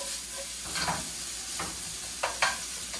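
Onions frying in a hot pan seasoned with spices, stirred around: a constant bright sizzle with a few scraping stir sounds and soft clicks of a utensil against the pan.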